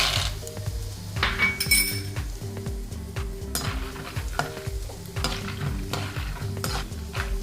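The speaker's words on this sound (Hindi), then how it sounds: "अब मूंगफली फ्राई कर लेते हैं।" Peanuts fry in a pan on a gas stove, with steady sizzling under repeated scraping and clinking of a spoon stirring against the pan, close and continuous.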